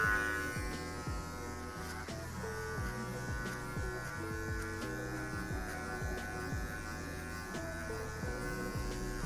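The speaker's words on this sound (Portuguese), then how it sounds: "após ter passado a máquina a favor do fio" Electric hair clippers run steadily while cutting a mid fade, a close continuous buzz with shifting pitch as the blades move through hair, no talking.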